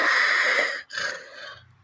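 A human voice imitates Darth Vader's mechanical breathing, one long rasping wheeze, a brief pause, then a second shorter breath, loud and close with no other sound around it.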